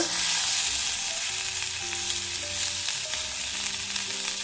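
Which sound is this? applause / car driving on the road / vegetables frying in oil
vegetables frying in oil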